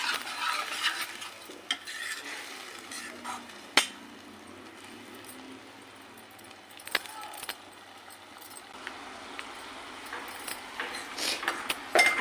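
Tomato puree fries in a pan and is stirred, a spoon scraping and clinking against the metal over a soft sizzle, with a few sharper knocks.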